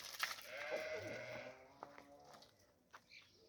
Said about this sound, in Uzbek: Mana ko'ringlar qo'ylarni.